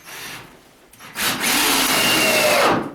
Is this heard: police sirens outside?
no